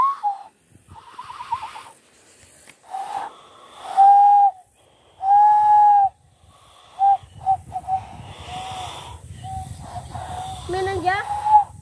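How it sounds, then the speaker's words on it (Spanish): A person whistles loudly using both hands, giving a string of sharp, piercing tones of varying length, some long and steady, others short bursts, amid outdoor chatter and other voices. "Estamos viendo a ver quién puede chiflar así, así, pero con las dos manos así."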